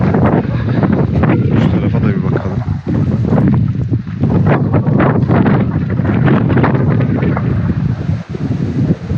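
Strong seaside wind buffets the microphone by the harbour of Babakale, a small fishing town, roaring loudly and unevenly throughout while someone talks close by.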